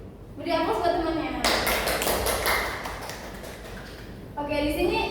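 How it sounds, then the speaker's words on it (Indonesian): Classroom applause as students clap for classmates during a school maths lesson, a dense burst of clapping lasting about three seconds, with children's voices talking just before and after. "Beri aplaus buat temannya."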